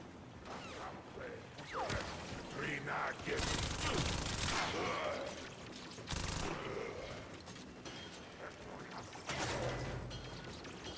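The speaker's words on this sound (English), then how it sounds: "Imagine Tap shooting with a toy viper." Rapid tap-fired pistol shots from a Viper in the Warframe video game, a series of sharp gunfire bursts in clusters with game effects and background sounds, fairly loud and continuous throughout.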